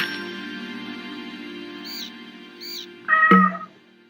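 Cat meowing in the video game Murder, She Wrote, a couple of faint high chirps followed by one loud, close meow over a quiet tonal background.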